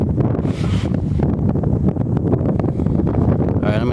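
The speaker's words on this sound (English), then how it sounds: "there's too much wind out here right now" Strong wind buffets the microphone outdoors on a windy February day, producing a loud, continuous low rumble with gusty fluctuations throughout.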